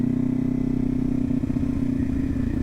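A Kawasaki Ninja 400 motorcycle is ridden at about 45 to 50 mph, its engine holding a loud, steady droning hum with a constant pitch and faint rattling, heard close throughout without talk.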